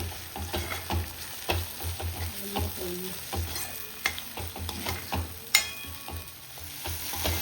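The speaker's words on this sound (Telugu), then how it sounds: "ముందు ఈ టమాటా అంతా కూడా బాగా మగ్గిపోవాలి ఆయిల్లో." Tomato pieces frying in oil with ginger-garlic paste for mutton keema, a steady close sizzle broken by frequent scraping stirs of a spoon against the pan, with no talking.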